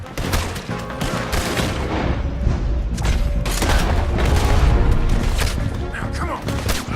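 Heavy, continuous gunfire in the western game Red Dead Redemption 2 during a gallows shootout, with loud overlapping shots and booming blasts filling the whole stretch, and voices shouting underneath.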